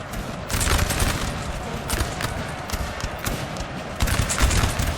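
Canister artillery and massed musket fire in the Napoleon Total War video game, a dense crackling fusillade of overlapping shots with heavier booms breaking through, continuous and loud.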